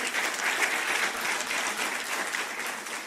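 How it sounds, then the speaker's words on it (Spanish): A church congregation breaks into continuous applause during a sermon, a dense, even roar of many hands clapping at moderate distance with no break. "Dale un fuerte aplauso al que vive por siempre."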